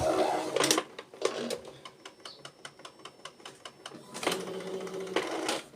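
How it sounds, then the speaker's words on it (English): An Epson EcoTank inkjet printer prints a nozzle check page with a rapid train of mechanical clicks and ticks as the print head shuttles, framed by louder whirring carriage and paper-feed bursts at the start and end. "So it's printing."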